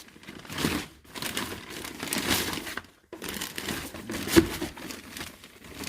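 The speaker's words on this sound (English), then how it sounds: "I got this big ass plastic bag." A large plastic bag crinkles and rustles loudly up close in repeated bursts with brief pauses, handled in a garage while working on a Saab 9-5 Aero fuel pump.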